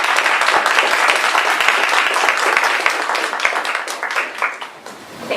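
Dense applause from a forum audience in Eugene greets speaker Pam Birrell, with steady, loud clapping that thins and fades near the end.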